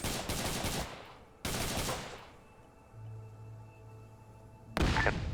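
Bursts of automatic gunfire from the Vietnam War video game Nam SOG during a night patrol, two long loud volleys followed by a quieter stretch with a low hum, then another sharp burst at the end.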